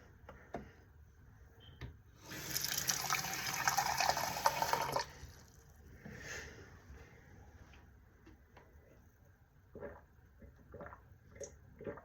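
Water runs from a tap in a short burst of about two and a half seconds, a hissing gush between quiet stretches filled with small clicks and handling sounds.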